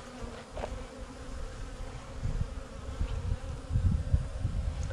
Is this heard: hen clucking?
no